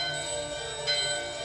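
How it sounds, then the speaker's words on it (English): A door bell in Final Fantasy IX rings with a sustained, shimmering metallic tone. A fainter second strike comes partway through, with no voices present. "Let's ring the bell at the door."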